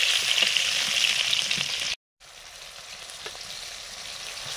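Fresh bay leaves and chopped onion frying in hot oil, a close, steady hissing sizzle that drops out for a moment before resuming at a slightly lower level, with no talking over it.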